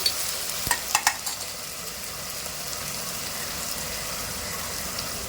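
Onions frying in masala in a pot for Parsi mutton salli boti, a few sharp clanks of a spoon against the pan at the start, then a low steady sizzle.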